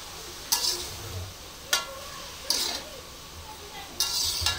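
Garlic being stirred in a hot cooking pan, a low sizzle broken by several sharp scraping clinks of a metal spatula against the pan at uneven intervals.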